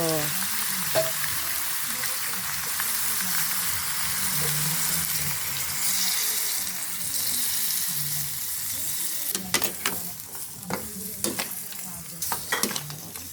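Soy sauce poured into horse meat adobo as it sizzles and fries in a pan, with a steady crackling hiss, stirring scrapes and a few sharper clinks of a utensil toward the end.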